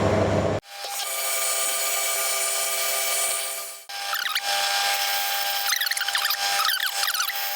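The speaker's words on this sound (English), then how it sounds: "So we're going to go in with a pilot drill, 15mm, bring that out" A 15 mm pilot drill whines steadily through metal, cuts out briefly, then starts again with scraping, chattering bites as it works.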